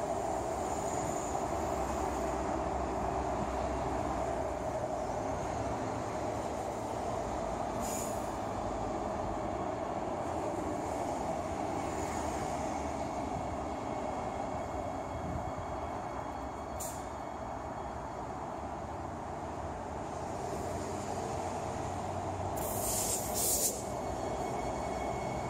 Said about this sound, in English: let's quickly look at some train clips now